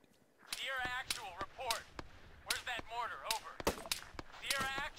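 Gunfire in Arma 3 cracks out as sharp, separate shots spread across a few seconds, mixed in with people talking and radio-style chatter.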